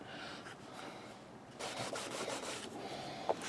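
A knife blade being polished by hand during restoration, giving a soft, quiet rubbing scrape in steady strokes that intensify midway, with one small sharp tick near the end.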